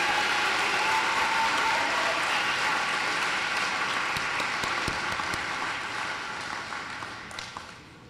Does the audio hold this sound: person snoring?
no